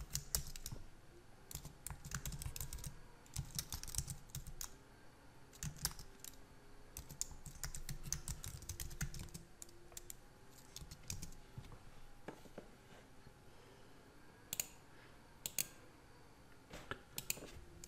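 Commands are typed on a computer keyboard while installing Apache Tomcat on Ubuntu, heard as quiet, close key clicks in uneven bursts with short pauses and a few louder taps.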